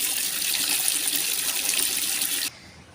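Water runs steadily from a tap while clothes are washed on an open rooftop on an overcast winter day, a loud continuous gush that cuts off abruptly near the end, leaving faint background.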